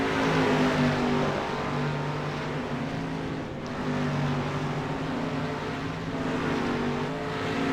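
Dirt-track race car engines in iRacing drone and whine in a steady, sustained roar, several cars battling for position close together, with a brief dip around the middle before the engine noise swells again.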